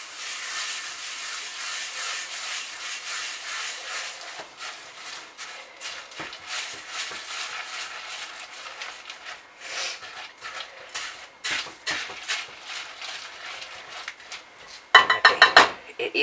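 A whisk stirs crispy rice cereal in a bowl for chocolate krispie cakes, giving a steady dry rustling scrape that turns choppier and more irregular, ending in a few sharp clinks against the bowl.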